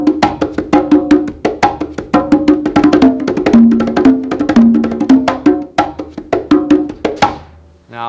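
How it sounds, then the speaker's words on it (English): Congas play a tumbao groove with five-stroke rolls divided onto the lower drum, a steady, dense run of loud close hand strokes with shifting low tones, no voices. "if you're playing a tumbao again and you want to divide to the lower drum the 5-stroke roll, it would sound like this"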